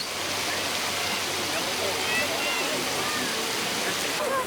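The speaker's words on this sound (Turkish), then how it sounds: "Şu suyun güzelliğine bakın ne kadar güzel akıyor." Water flows over the white travertine terraces at Pamukkale in Turkey. A continuous, even rushing splash sounds close by, with faint voices mixed into the background.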